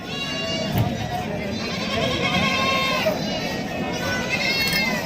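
Goats and sheep bleat repeatedly, close and loud, amid a busy livestock market crowd in Sangola with people talking in the background.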